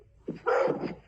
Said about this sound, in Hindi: मगर कुत्ते भौंक रहे